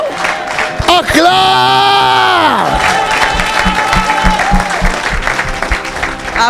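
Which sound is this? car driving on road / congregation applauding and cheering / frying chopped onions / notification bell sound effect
congregation applauding and cheering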